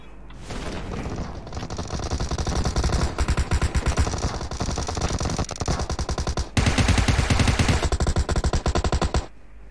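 Sustained automatic gunfire from PUBG Mobile, dense rapid bursts firing almost nonstop for the whole stretch, loud and close, with only a brief break partway through before the shooting resumes.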